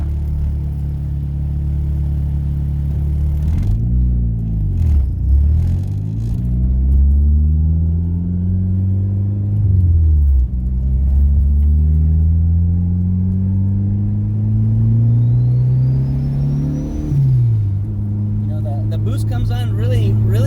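A turbocharged, K-swapped, rear-wheel-drive Starion drives with a loud, droning engine that rises in pitch through each gear before dropping at the shifts, with a faint turbo whistle building, heard from inside the car.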